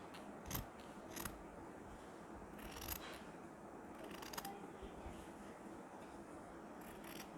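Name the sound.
cutting a nauvari sari between two stitch lines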